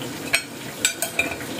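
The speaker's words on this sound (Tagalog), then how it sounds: "Nakadip naman to sa mantika. Lubog siya sa mantika" Lechon kawali pork fries submerged in hot oil, giving a low crackling sizzle broken by several sharp utensil clinks and stirring knocks.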